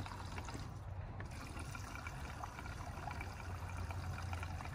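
Synthetic oil is poured into an iPower generator as a faint, steady trickle that runs throughout without pause.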